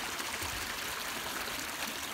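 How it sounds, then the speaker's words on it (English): A small stream in a park burbles and trickles steadily, a continuous close wash of flowing water with no voices. "This little stream goes through the whole park."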